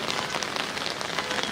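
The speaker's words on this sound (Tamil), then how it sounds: "மழை கொட்டுது, இதுக்கெல்லாம் நம்ம அச்சப்படக்கூடாது" Heavy rain pours down in a dense, even hiss of drops striking surfaces, steady for the whole stretch with no voices over it.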